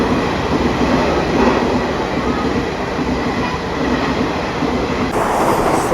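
The Sampoorna Kranti Express rushing past on the Kanpur to Delhi line, a loud, continuous roar of wheels and carriages close by, steady for the whole stretch.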